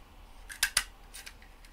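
Scissors cut envelope flaps into circles, two sharp close snips followed by fainter cutting sounds in a quiet room.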